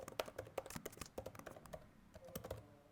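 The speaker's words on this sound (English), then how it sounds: "I'm going to type that out" Close, fairly quiet typing on a computer keyboard: a quick irregular run of sharp key clicks and taps, with a short pause near the end before a few final keystrokes.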